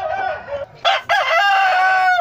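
An 18-month-old English gamecock crows loudly and close by, a drawn-out cock-a-doodle-doo rising and holding, with no talking.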